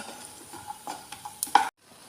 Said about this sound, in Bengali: বড়িটা আমি ভালোভাবে ভেজে নেব